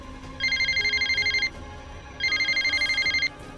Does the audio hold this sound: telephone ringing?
yes